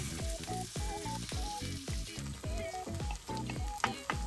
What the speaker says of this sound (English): I put salad oil on the pan and spread it. Then I put the dough.